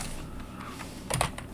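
Brief burst of typing on a computer keyboard while writing Python code, a few quick key clicks near the end after a quiet stretch.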